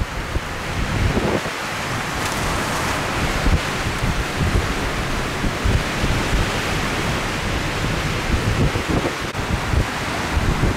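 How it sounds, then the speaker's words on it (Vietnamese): Rough sea waves crash steadily around a fishing boat heading back toward shore as a storm builds, with strong wind buffeting the microphone in a continuous loud roar of surf and gusts, no talk. "Bây giờ thì trời bắt đầu nổi sóng nhiều hơn lúc nãy rồi đó."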